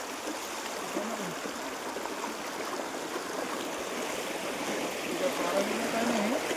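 A village river stream near a house in Maharashtra, a soft continuous flowing rush of water, faint and even, with distant speech-like sounds over it.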